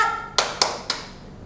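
Children at a church Sunday school service clap a short rhythmic cheer, three sharp, distinct hand claps spaced evenly and close to the microphone, with a faint tone fading out before them.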